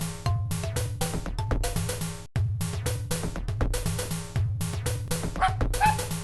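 A dog in a game barks and yips in a rapid, repeated series of loud, close bursts, with one brief pause partway through, over a steady backing of game sound.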